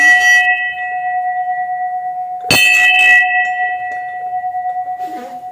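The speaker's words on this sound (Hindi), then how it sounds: "तो चलिए घंटी बजा लेते हैं" A temple bell struck twice with sustained ringing tones, the first strike decaying slowly before a second loud clang, then fading with faint rustling at the end.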